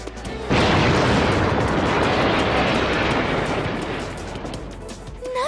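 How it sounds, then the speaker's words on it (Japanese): A loud, sustained explosion in the Soukou Musume video game, a rumbling roar bursting in abruptly and holding for several seconds before slowly tapering, with no talk over it. "今の音爆発音だったわよね。"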